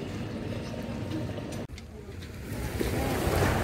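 Steady wash of sea surf with wind rumble, a brief dip midway, then the waves swell a little louder toward the end.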